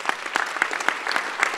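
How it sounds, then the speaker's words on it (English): An entrepreneurs' conference audience claps, with distinct individual claps popping out of a moderate, fairly close wash of applause. "Let's give those people a round of applause"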